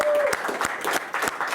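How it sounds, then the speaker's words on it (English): An audience claps at a Hall of Fame ceremony, a dense round of applause heard close with sharp individual claps standing out, lasting under two seconds. "So just one more round of applause for everyone that made the Hall of Fame tonight."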